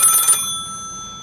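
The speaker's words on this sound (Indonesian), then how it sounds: "ada telepon, Pak." An old-fashioned rotary telephone rings with a bright, rapid electric bell trill for a moment, then the ringing cuts off and leaves a faint hum, close by with no voices.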